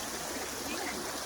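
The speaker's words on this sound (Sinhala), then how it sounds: "අන්න අතනින් තමයි වතුර වැටෙන්නේ" Water pours down a waterfall in Sri Lanka, making a constant rushing wash. The roar is dense and even across the short moment, with no clear voices over it.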